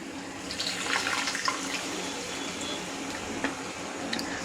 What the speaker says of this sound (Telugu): మనకి ఎన్ని నీళ్ళు కావాలో అన్ని నీళ్ళు వేసుకోవాలి